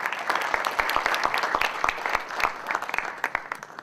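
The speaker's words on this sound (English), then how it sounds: "If we could have one more round of quick applause for our fantastic panel of judges today" An audience at a business plan competition applauds the panel of judges with a steady, full round of clapping that holds for about four seconds at close range.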